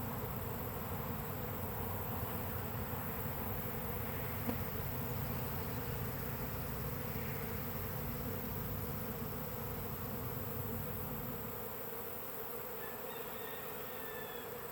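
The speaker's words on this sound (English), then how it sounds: "A lot of bees right there." A dense, steady drone of many honey bees buzzing together as several swarms combine on a tree limb fills the air continuously, loud and close, with no voices.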